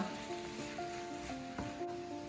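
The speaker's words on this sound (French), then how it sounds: "je les fais un petit peu revenir dans ce fond d'huile et ce curry" Shrimp sizzle steadily in a thin layer of hot oil with curry, tossed among small vegetables for Thai-style fried rice; a continuous close frying hiss with faint stirring clinks.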